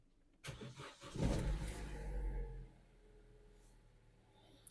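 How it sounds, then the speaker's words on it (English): A car engine with a camshaft position control solenoid circuit fault (code P0013) cranks and catches, revving briefly before settling into a quieter idle. "I'm going to switch off and start the car again."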